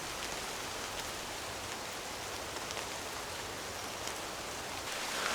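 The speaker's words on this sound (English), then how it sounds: "They just love listening to the rain in woodland, pitter patter" Rain falls steadily in woodland, an even, dense hiss of drops on leaves and ground that holds at the same level throughout, with no voices.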